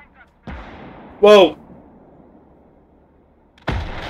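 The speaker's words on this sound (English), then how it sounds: "That's artillery!" Artillery fire in the World War II strategy game Call to Arms: Gates of Hell Ostfront, with a booming shell blast at the start and another at the end around a brief exclaimed shout, over a steady battlefield rumble.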